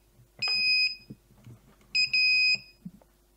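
An iGET M2B GSM alarm system siren sounds two loud, shrill electronic beeping bursts, each about half a second long, separated by a short pause, with faint handling clicks between them.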